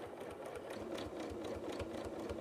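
A sewing machine quilting around applique with monofilament thread runs in a fast, steady mechanical chatter of rapid needle strokes, close and continuous but fairly quiet.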